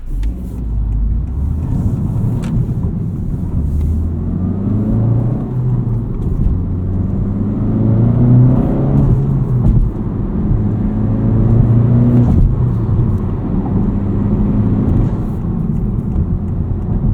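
Honda Civic Type R FL5 with a COBB Accessport tune accelerating hard through the gears, its engine note rising and dropping in repeated sweeps over a steady low rumble, with no talk.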